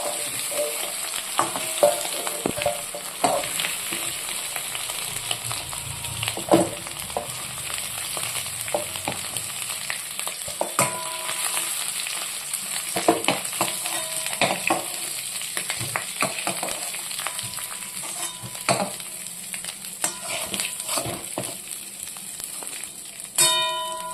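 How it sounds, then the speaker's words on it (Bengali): Potatoes for aloo dum frying in hot oil give a steady bright sizzle throughout, with frequent clicks and scrapes of stirring and no voices. "দেখুন বন্ধুরা, আমার আলুটা হালকা লাল করে ভাজা হয়ে গেছে।"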